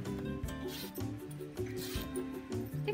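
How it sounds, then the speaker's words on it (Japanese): Scissors cutting through a zipper for a sewing project, with a steady run of close, dense crunching and rasping snips lasting about three seconds, and no talk. "ファスナーを44センチの長さでカットします。"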